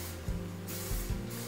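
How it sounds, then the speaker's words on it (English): Hairspray is sprayed onto hair in a few short hissing bursts, close up and fairly soft, with brief pauses between them. "As soon as I finish the first one, I just give it a bit of a spray."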